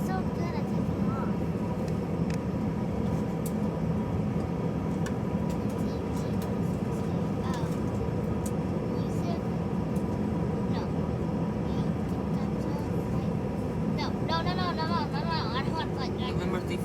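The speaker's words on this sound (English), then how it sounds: "No, we're just taxiing for departure." Steady cabin rumble and whine from a Delta Airbus A320-214 taxiing for departure at Austin, continuous and even throughout, with voices talking over it.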